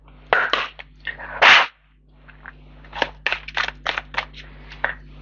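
Tarot cards being shuffled by hand, a few quick riffling bursts and one louder sustained flurry, then a run of lighter crisp card slaps and flicks, close up with no talking.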